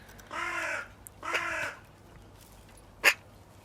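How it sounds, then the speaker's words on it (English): A crow caws twice in drawn-out, harsh calls close by, followed after a pause by a short sharp call, with quiet room tone in between. "What do you think, bird?"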